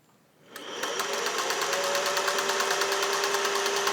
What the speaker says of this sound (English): you see it zigzagging really quickly here. Pretty high RPMs. I could go even faster.